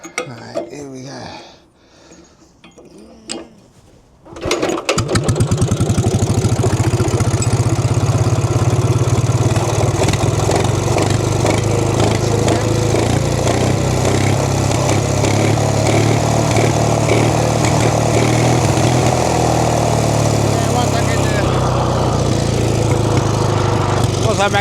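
Old J.A.P stationary engine cranked and starting, after quiet handling sounds it fires abruptly and settles into a loud steady tick-over with rhythmic mechanical clatter, close up, continuing for about twenty seconds.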